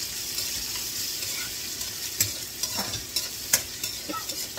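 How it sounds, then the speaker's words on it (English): Pepper frying in a hot pan for bora curry, a steady close sizzle with a few sharp crackles and pops, no voices. "So that's gonna go in there, and I want it to fry before I add the other ingredients. So we're gonna fry this."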